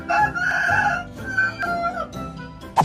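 A rooster crows alongside a monkey in a comedic animal scene, the loud strained cock-a-doodle-doo call rising and falling over almost three seconds with a sharp squawk near the end.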